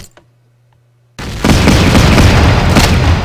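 After a second of near silence, heavy gunfire and explosions burst out loud and sustained in the Battle Academy Normandy war game, a dense roaring barrage continuing to the end.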